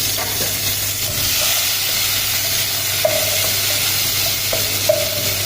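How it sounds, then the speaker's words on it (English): Onion sautéing in a pan with bay leaves, cinnamon and cumin seeds for an Indian chickpea curry: a steady broad sizzle and hiss throughout, with a few soft stirring scrapes and clicks, no talking. "So now we put our onion, and have to saute this our onion."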